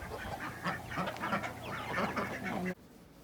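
A busy flock of poultry, ducks quacking and chickens clucking together in a steady, overlapping chatter that cuts off abruptly near the end.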